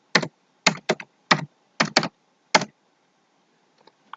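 Someone types on a computer keyboard in Microsoft Word, producing about seven short, crisp bursts of close keystrokes separated by silence. No voice is heard.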